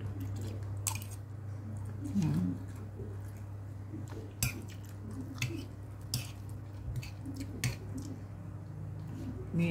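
Close, moist chewing of a soft cooked eggplant dish, with squishy bites and occasional light clicks of cutlery on a plate over a steady low background hum.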